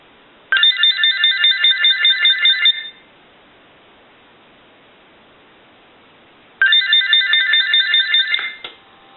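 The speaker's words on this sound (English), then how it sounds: "I want to go ahead and ring the unit one more time." General Electric cordless telephone unit ringing in two loud electronic trilling bursts, each about two seconds long with rapid pulsing, separated by a few seconds of near silence.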